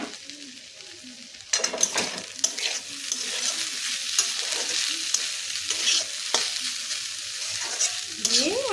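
Chilli corn is stirred in a pan: after a quiet second and a half, a sharp sizzle starts and holds with spoon scrapes and small clatters, close and fairly loud, with no voices.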